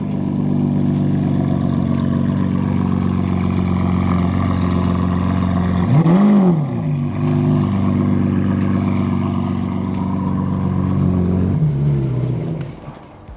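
A Lamborghini Aventador engine roars continuously on a street, swelling into a loud rev around the middle before settling back to a deep idle rumble.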